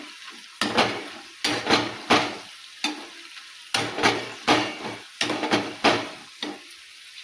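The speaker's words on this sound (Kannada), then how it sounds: "ಅರಿಶಿಣ ಪುಡಿ ಹಾಕಿ ಚೆಂದಾಗಿ ಮಿಕ್ಸ್ ಮಾಡ್ಕೊತೇನೆ" A spoon stirs poha chivda with turmeric powder in a pan, giving about a dozen distinct scraping strokes in an uneven rhythm, each with a light sizzling rustle and brief quiet gaps between them, close up and fairly soft.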